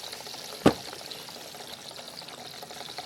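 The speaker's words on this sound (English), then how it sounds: "And look, instant bubbles." Steady bubbling, gurgling liquid hiss from a running ink pump on a faulty Offnova DTF printer ink supply system, with a single sharp click near the start.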